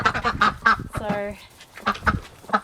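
Ducks call from inside their run, a few nasal quacks and honks spread through the moment, mixed in with a nearby person talking.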